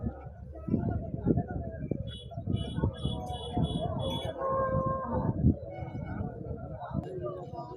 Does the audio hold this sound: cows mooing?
yes